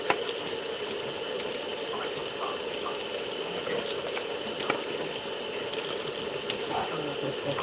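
Hot water poured into flour for dumpling dough makes a continuous broadband rush and patter with faint clinks, steady and close, with no talking.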